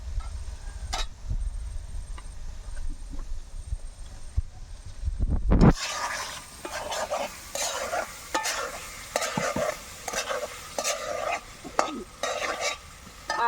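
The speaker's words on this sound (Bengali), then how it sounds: "এখন ভেজে রাখা আলুগুলো দিয়ে দেবো।" Fried potatoes tossed into a cooked spice masala in a pan while making a cauliflower, potato and egg curry: a short lull, a thud as they drop in, then steady scraping stirs with sizzling underneath, close and without talk.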